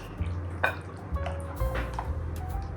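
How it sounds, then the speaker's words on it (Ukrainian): Coconut gelatin mixture pours and drips over chocolate in a container with soft splashes and a faint clink, close by, no talking. "Виливаю кокосово желатинову масу зверху на шоколад."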